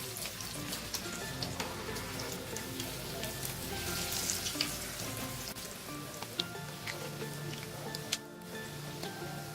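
Bread pakora fries in hot oil with a steady, dense crackling sizzle, as the pieces are turned to cook the other side, with a few light clicks from the utensil during the turn.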